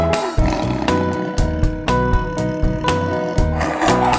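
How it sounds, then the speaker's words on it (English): A tiger roars in a children's listening song, sounding as loud, rhythmic bursts set against music rather than alone. "I hear a tiger."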